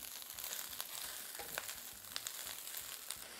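Rice browning in a pan of hot oil with shredded cabbage and a pinch of salt, a steady close sizzle and crackle running throughout with small pops and spatters and no talking.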